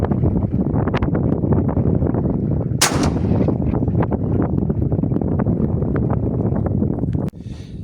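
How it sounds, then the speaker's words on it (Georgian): A single sharp blast from a Breda Echo shotgun with a three-notch choke cracks out amid heavy, constant wind buffeting the microphone. "ეს იყო მეშვიდე გასროლა სამჭრილიანი ჩოკიდან 35 მეტრი"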